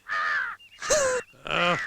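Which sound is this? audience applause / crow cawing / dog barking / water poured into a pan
crow cawing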